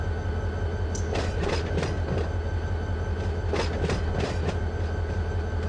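A train in Run 8 Train Simulator rolls over rails with a constant low rumble and loud, irregular clickety-clack bursts of wheels on joints, close and continuous, with no voices.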